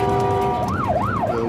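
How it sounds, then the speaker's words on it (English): A London Ambulance Service ambulance siren wails in rising and falling sweeps over steady road traffic, loud and close throughout. "The LAS, or London Ambulance Service, is en route, and it's a race against time"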